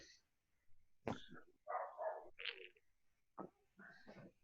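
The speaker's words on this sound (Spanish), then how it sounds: "mi perro empezó a ladrar" A dog named Querubín barks in short, faint, irregular bursts, with yips and whimpering tones, heard from a distance in a quiet room.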